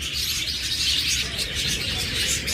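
Pet lovebirds and budgerigars, including a creamino pair, chirp and tweet steadily in a close, busy chorus of overlapping calls, with no talking.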